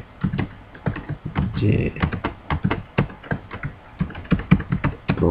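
Java code being typed on a computer keyboard: rapid, close, irregular key clacks in a steady stream, with a person speaking over them.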